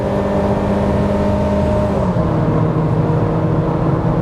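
Chevrolet Spin engine winding up hard near its rev limit, a loud steady roar with layered harmonic whine that stays high before an upshift, heard close from inside the cabin with no voices.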